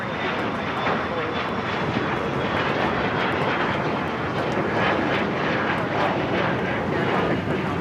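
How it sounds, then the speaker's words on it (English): Jet airliner engines roar at LAX airport, a loud steady broadband rush that holds constant throughout as a plane runs up for takeoff, with faint radio talk in the background. "Our next takeoff is that American 737-800, heading to Phoenix, flight 1994."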